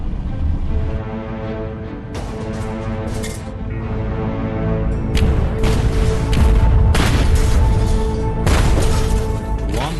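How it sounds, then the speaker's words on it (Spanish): A continuous rumble of depth charges dropped by the World War II destroyer USS Pope, several deep booms rolling into one another over a sustained low roar. "el USS Pope lanza una serie continua de cargas de profundidad"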